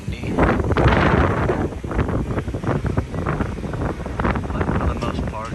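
Gusty wind buffeting the microphone in rough, rumbling bursts outdoors on a cruise ship at sea, with a voice talking underneath.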